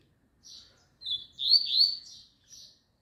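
A caged double-collared seedeater sings a short, clear series of high chirping phrases, close and distinct against an otherwise quiet background.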